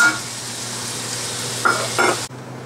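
Chocolate-enriched bacon mole sauce simmers in a pan with a steady broadband bubbling hiss, joined near the end by a couple of brief scraping stirs before it cuts off abruptly.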